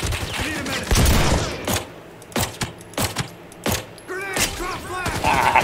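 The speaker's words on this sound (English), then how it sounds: "Ah, grenade." Gunfire and a grenade blast in a chaotic shooter game, with several sharp booming bursts spaced across the clip and a voice talking briefly in between.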